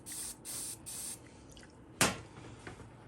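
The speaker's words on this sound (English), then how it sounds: "Load up the hairspray." Hairspray hisses in three quick bursts onto model trees made from dried sedum for a slot car layout. After a pause comes a sharp knock, then faint handling noise.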